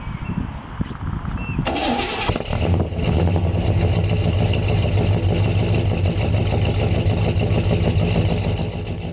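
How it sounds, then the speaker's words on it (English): A classic car that has sat unused for six months cranks briefly and catches, then settles into a steady, fairly loud idle that continues alone to the end. "go check for leaks now that the engine's running"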